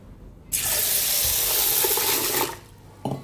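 Water runs steadily into a container of urad dal and fenugreek seeds to soak them for idli batter, a strong continuous pour lasting about two seconds, then a short splash, with no talk.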